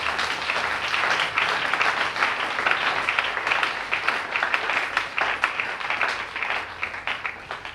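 A church congregation claps together in sustained, dense applause that stays loud and steady throughout, with individual claps crackling within the wash.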